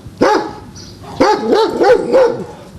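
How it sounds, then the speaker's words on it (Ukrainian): A dog barks from behind a fence in a series of loud, close yaps: one sharp bark, a pause, then a quick run of several more with a slight whine. "Через паркан поспілкувалися хіба що власне з псом."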